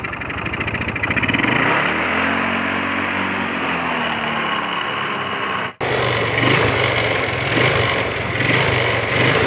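Yamaha Mio motor scooter engine running, idling roughly then the throttle revved to a louder, higher buzzing drone, with a brief dropout before it picks up again.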